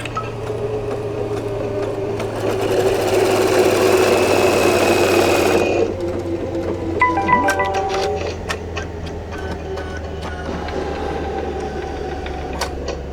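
SEWTECH embroidery machine with a magnetic hoop stitching out a trimming design, a steady rapid mechanical whir and clatter that swells louder for a few seconds, then drops to quieter ticking and clicks.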